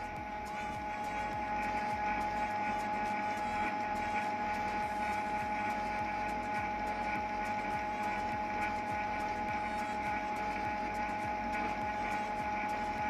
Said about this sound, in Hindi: देखिए आवाज़ कर रहा है और इंक हेड तक पहुंचा रहा है।